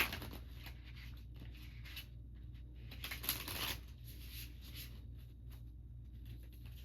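A tarot deck is shuffled by hand, producing soft, quiet riffling and sliding card noises in irregular bursts, close by in a calm room.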